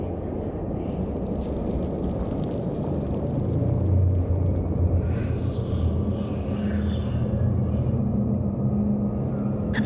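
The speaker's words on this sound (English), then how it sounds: "It's a dust storm too." A dust storm in Star Wars: The Old Republic roars as steady, heavy wind that rumbles and gusts throughout without pause, with no clear talk.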